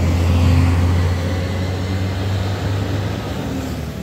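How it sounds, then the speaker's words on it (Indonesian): A Nusantara intercity bus passes on a busy holiday road, its engine giving a loud steady low drone with a rushing roar of traffic close by, and no voices. "Selanjutnya ada bus Nusantara"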